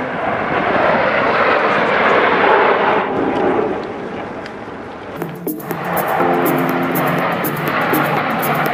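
Airplane flying at the Dubai Airshow exhibition, a loud continuous jet-like engine roar and rumble that swells and eases over several seconds, with a brighter whine and faint crowd noise toward the end.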